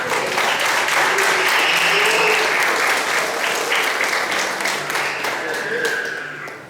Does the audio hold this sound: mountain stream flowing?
no